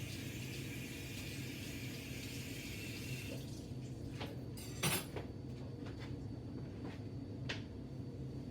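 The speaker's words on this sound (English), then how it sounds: "Rinse my knife off." Tap water runs steadily while a kitchen knife is rinsed during breakfast cooking, a soft continuous wash that eases off partway, followed by a few light clinks and taps.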